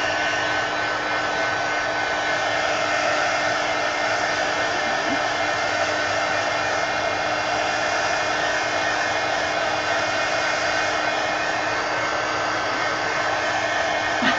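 A hair dryer blows a steady, even whoosh and hum without a break as it dries a marker sketch, loud and close throughout.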